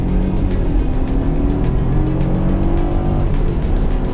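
A BMW F30 318i sedan with a 136-horsepower engine pulls hard from a standstill, its engine droning loud and steady as it climbs through the revs, with a faint whine of tire noise alongside.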